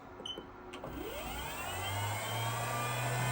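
A CNC machine spindle spins up toward 8,000 RPM, a rising whine that sweeps upward and settles into a steady high tone over a low hum, fairly quiet and close, with no talking.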